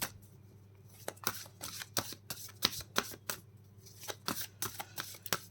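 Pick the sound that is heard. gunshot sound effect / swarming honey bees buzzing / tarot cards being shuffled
tarot cards being shuffled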